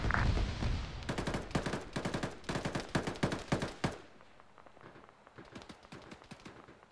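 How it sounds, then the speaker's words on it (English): Machine gun fire in a tactical shooter game, bursts of rapid close shots pounding out in quick succession, then fading to softer, more distant crackling rounds, with no talk. "There's an MG pinning us down."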